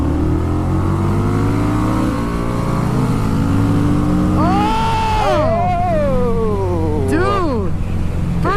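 Two motorcycles, a Kawasaki Vulcan 650 and a Harley Street 750, pull away together with rising engine drone, loud and near. The revs climb and then drop as the riders shift gears, and voices speak over the engines.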